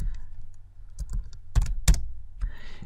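A few computer keyboard keystrokes come in an irregular burst, close and crisp against a quiet low background, with a sharper pair of clacks near the middle.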